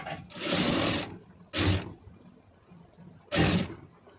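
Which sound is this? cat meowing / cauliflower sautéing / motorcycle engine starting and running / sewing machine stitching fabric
sewing machine stitching fabric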